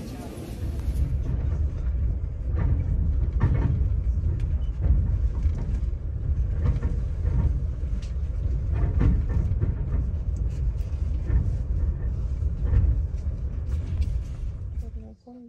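A metro train rumbles through a Kyiv subway station, a steady low roar that holds for about fifteen seconds and then cuts off abruptly.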